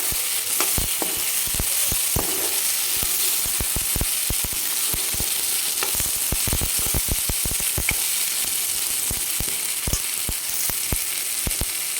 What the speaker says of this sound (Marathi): टोमॅटो छान नरम झाल्यानंतर हा आपण भाजून घेतलेला सांडगा हा टाकून घ्यायचा आणि छान मिक्स करायचं